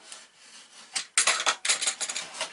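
Cutting open the packaging of a Power Plus Dual Power stapler-nailer: short scraping, rasping bursts of blade through cardboard and plastic, growing louder and more frequent after a quieter start, close by with no talk.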